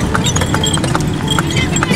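Hooves of a new horse from a stable clip-clop steadily as it pulls an andong cart on its first outing, a rapid, regular clatter heard up close over continuous rumbling road noise.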